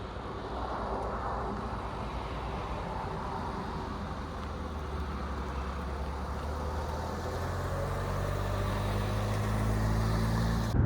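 A Hyundai Santa Fe 2.2 CRDi with 4WD on a test drive gives a steady cabin rumble of diesel engine and road noise, swelling gradually louder toward the end as the SUV picks up speed, with no talk.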